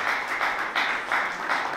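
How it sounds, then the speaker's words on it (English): Audience applause for a poet at a poetry reading, a short, fairly quiet burst of clapping that pulses in an uneven rhythm. "Another round of applause for the poem and the poet."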